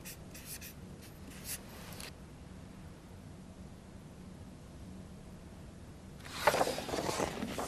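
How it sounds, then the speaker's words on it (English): Pen scratching on paper as a maths equation is written out, faint close strokes in a couple of short bursts, then a quiet pause, then a louder stretch of writing near the end, with no talking. "I'll just write that down again."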